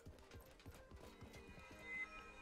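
Horse hooves clip-clop in a video game, a quick rhythmic series of soft thuds under a constant mechanical drone and faint tones, fairly quiet and steady over about two and a half seconds.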